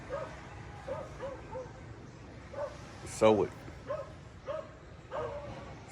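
Dogs in a rural Philippine village barking in short, scattered yips and woofs at middle distance, with a voice talking over them and a sharp louder burst partway through.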